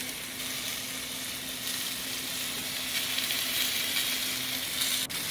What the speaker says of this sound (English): I'm going to put these marinated shrimp skewers right over the coals, cook them for just a couple minutes each side.